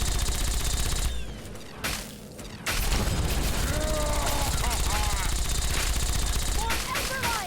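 Loud, dense automatic gunfire from the Fallout 3 video game, rattling in rapid bursts with a short lull partway through before the shooting resumes just as heavily.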